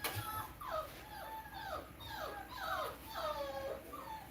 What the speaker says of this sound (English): You guys hear the puppies?